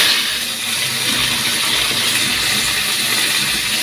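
Cauliflower fries in hot oil for a vegetarian khichuri, giving a steady, dense sizzle and crackle with no talking.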